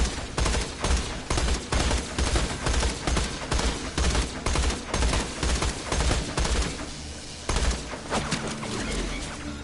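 Avenger gun in Borderlands fires in steady, rapid repeated bursts of loud, punchy shots, close and dominant for most of the clip before tapering off near the end.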